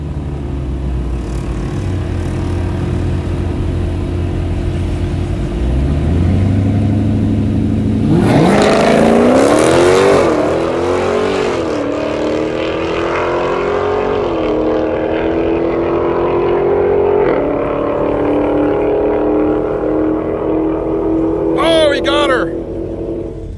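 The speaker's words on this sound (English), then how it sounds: "1320 versus Mrs. X. The Shaker Scat. This should be really close." Dodge Challenger Shaker Scat Pack in a drag race against a 1320 car, engines idling then roaring hard through rising, shifting revs for a long loud pull, with a brief high burst near the end and people talking over it.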